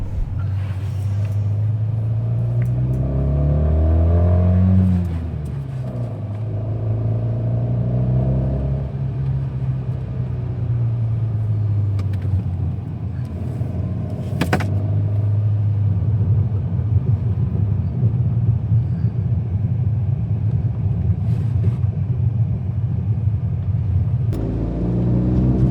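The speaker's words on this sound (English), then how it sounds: "So now let's just go and give it a little test drive." Alfa Romeo MiTo TwinAir hatchback on a test drive, its small twin-cylinder engine droning and rising through revs in steady cabin rumble, with gear changes and gentle acceleration over nearly half a minute.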